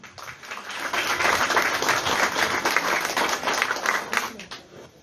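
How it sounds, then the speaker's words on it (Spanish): Strong applause from an audience at a forum on preventing teen pregnancy, swelling quickly into dense clapping for an introduced panel guest, then tapering off, with faint voices mixed underneath. "para quien pido un fuerte aplauso"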